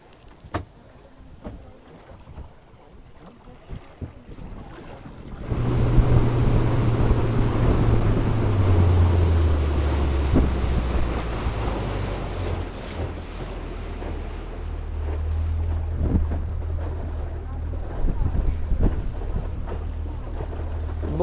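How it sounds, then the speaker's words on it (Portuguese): Boat ride on the Preguiças river in Barreirinhas: quiet wind and water at first, then an outboard motor starts and holds a loud, steady drone with a falling pitch, buffeted by wind noise against the microphone. "estamos fazendo passeio de barco aqui no rio"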